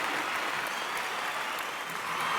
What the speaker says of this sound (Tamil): ஒரு மிகப்பெரிய கைத்தட்டல் கொடுக்கணும்